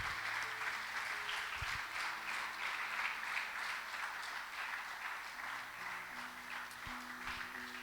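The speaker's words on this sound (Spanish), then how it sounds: "¿Te animás a darle un aplauso al Señor?" A church congregation gives steady, sustained applause to the Lord, dense clapping throughout with soft low tones of music or voices held beneath it.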